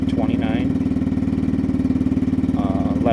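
A turbocharged 2007 Yamaha C3 scooter running on E85 drones steadily at high revs, its buzzing engine note loud and close throughout, with brief higher-pitched whines rising over it near the start and end.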